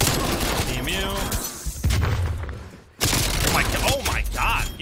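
An MP5 submachine gun fires in Call of Duty Cold War in rapid bursts of gunfire, with someone talking over the shooting and a brief drop in sound partway through.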